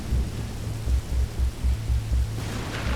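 Rain hisses steadily while low thunder rolls in repeated rumbling pulses, with a brief rise in noise near the end. No one speaks.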